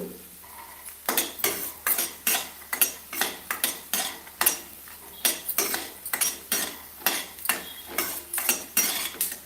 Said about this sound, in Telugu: మనమైతే ఇలా గ్రౌండ్ నట్స్ని వేపుకుంటున్నాము